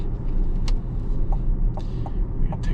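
A 2025 Chevrolet Blazer EV SS cruising through a neighborhood, heard from inside as a steady low road and tire rumble with a few light clicks and taps, no engine note.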